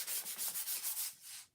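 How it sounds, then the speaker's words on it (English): Light hand sanding on a painted wooden board: about eight quick, soft rhythmic rubbing strokes, close and fairly quiet, ending with one longer stroke and silence. "I'm gonna lightly sand this."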